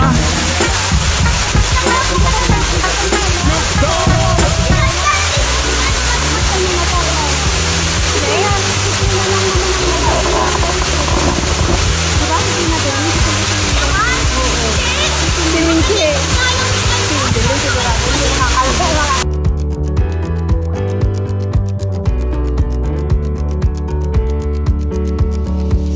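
A waterfall in Burgos, Pangasinan roars as a steady, loud broadband rush of falling water for most of the time, with people talking over it, before the sound cuts off abruptly near the end.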